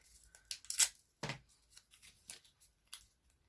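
Scissors snip through card while making a watercolour Christmas card, giving a few quiet, separate crisp cuts with soft paper rustles between them, close and alone.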